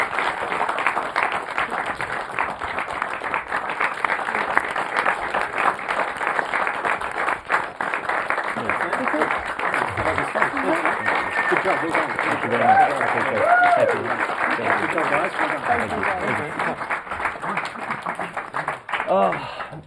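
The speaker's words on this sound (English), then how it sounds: "please give them a massive round of applause" A studio audience applauds the lecturers and staff of CSU, sustained mid-level clapping running the whole stretch with voices talking over it and a brief dip partway through.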